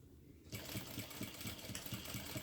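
Sewing machine stitching a bag gusset starts up after a short quiet moment, then runs in a steady rapid rhythmic chatter, close and alone.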